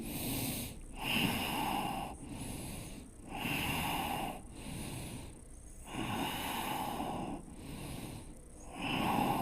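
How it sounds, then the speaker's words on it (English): Slow, deep breaths in and out repeat in a steady rhythm, close and fairly soft, as a person holds a shoulder stretch during a yoga class for athletes. "Hold and breathe."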